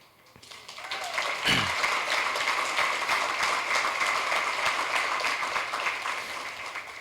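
Applause at a teachers of the year banquet, swelling quickly into steady clapping from a large room that carries on at a loud, even level before easing slightly.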